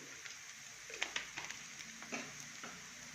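Onions frying in a pan for a Sankranti festival dish, a soft steady sizzle with a few sharp stirring scrapes and clinks on top, quiet and close.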